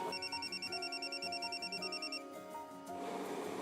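A telephone rings with a repeating electronic warbling ringtone, pulsing steadily for a couple of seconds before stopping, moderately loud indoors.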